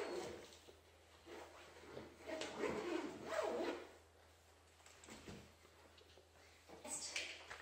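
A zipper on the apron of a Bugaboo Cameleon 3 pram is pulled closed in a few short, quiet rasping strokes, close up in a still room, with soft gaps between pulls.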